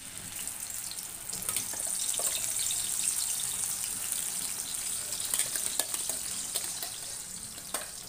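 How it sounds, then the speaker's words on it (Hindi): Ground onion, tomato, chilli and garlic masala frying in oil, made for baigan ki rasedaar sabzi in a home kitchen, gives a steady close sizzle with scattered pops and crackles and a few sharper clicks, and no voices. "अभी ये मसाले को फ्राई करते हैं।"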